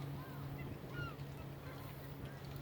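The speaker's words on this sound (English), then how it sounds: "Here they are flying off everything. Millions of birds." A large flock of birds takes off from a lake in New Jersey, heard as faint, distant honking over a low, steady background.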